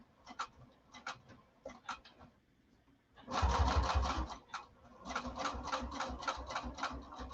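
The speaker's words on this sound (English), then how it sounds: "I leave a long thread, and then I can start stitching" A sewing machine stitches fabric in rapid mechanical bursts, stopping and starting several times, close and loud, with no talking.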